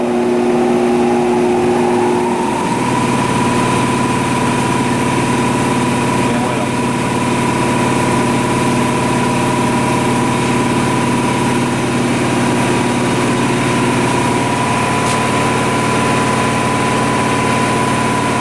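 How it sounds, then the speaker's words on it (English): An air compressor in a machine workshop starts up after a moment of quiet and settles into a loud, steady droning hum with a constant motor tone that runs unbroken to the end. "Oh, air compressor. Never fails."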